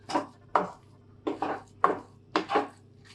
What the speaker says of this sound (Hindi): गैस बंद करने के बाद दूध को और मिल्क पाउडर को और ये नारियल के बुरादे को अच्छे से मिलाना है